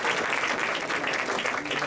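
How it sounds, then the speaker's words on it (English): A full, steady round of applause from a banquet crowd at a Rotary Club senior of the year dinner, dense clapping held evenly throughout. "Let's give them a round of applause."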